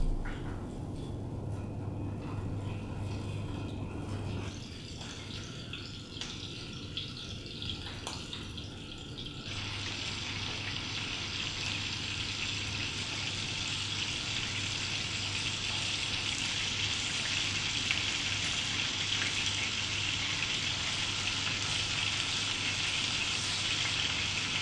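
Beef balls fry in a hot pan with a steady, close hiss that swells into a brighter, louder sizzle partway through and holds there without letup.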